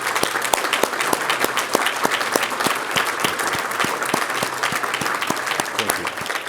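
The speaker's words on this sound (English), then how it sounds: "let's have one more round of applause for our awardees." Applause at an annual meeting breakfast for awardees, with a few near, sharp individual claps standing out at an even rhythm over a softer crowd of clapping.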